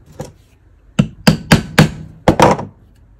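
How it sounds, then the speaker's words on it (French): A hammer strikes a centre punch on a treated steel pushrod: six sharp, close metallic taps, a lone hit first, then a quick irregular cluster of five. "Alors d'abord, je vais mettre un petit coup de poinçon."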